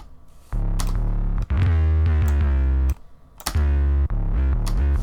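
Deep, booming 808 bass notes with pitch slides gliding between them, heavy and sustained, a few hits across a short phrase with no talking.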